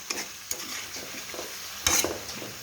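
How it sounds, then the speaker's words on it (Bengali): Kohlrabi sautéing and being stirred in a pan for a chicken curry, a steady soft sizzle broken by periodic scraping stirs, with one louder clatter near the end; no talking. "তাই আমি ওলকপিটায় আগে দিয়ে একটু কষিয়ে নিচ্ছি"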